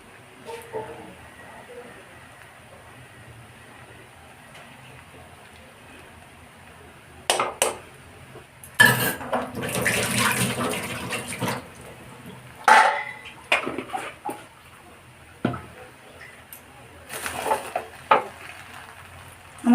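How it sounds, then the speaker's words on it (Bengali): Basanti Polao, pulao rice with ghee, stirred in a pot with a spoon: intermittent scraping and clinks against the pot over a quiet background, loudest in a few bursts of stirring. "আমি নামানোর আগে আর একটু ঘি দিয়ে নেড়ে চেড়ে"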